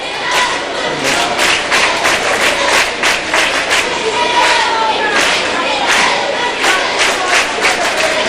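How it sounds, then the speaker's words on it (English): Basketball fans of Miami Trace roar and cheer in a high school gym, a loud continuous crowd din with rising shouts throughout. "A lot of noise these Trace fans are making."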